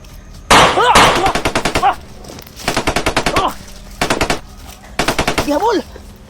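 Gunfire exchange, several loud, close bursts of rapid automatic fire with short pauses between them, and a voice shouting under some of the bursts.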